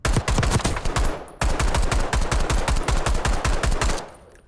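Fully automatic weapon fire from a Black Ops 6 gun with the Boiling Point blueprint, two long sustained bursts of fast evenly spaced shots with a brief gap between, close and loud, trailing off at the end.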